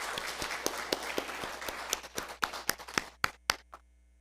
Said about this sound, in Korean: 크게 한번 박수해 주시기 바랍니다